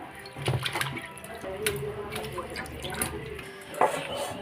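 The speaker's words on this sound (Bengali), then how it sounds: "পাতাগুলো হচ্ছে বেসিংয়ের কাছে নিয়ে যাচ্ছি একটা একটা করে ভালো করে ধুয়ে নিচ্ছি" Tap water runs into a sink basin while leaves are washed one at a time under it, a steady splashing stream with scattered drips and clinks of handling, fairly close and alone throughout.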